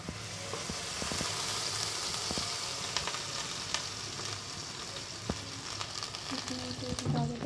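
Onion and oil sizzle steadily in a kadai, a continuous crackling fry with occasional small pops and the scrape of stirring.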